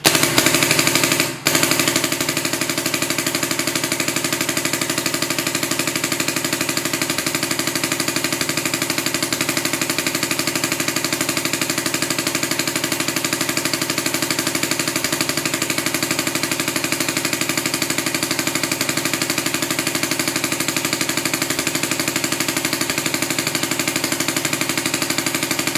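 A paintball marker fed by a modified Pinokio hopper fires .50 caliber paintballs in one long, unbroken rapid stream, a dense mechanical chatter held at steady loudness from start to finish.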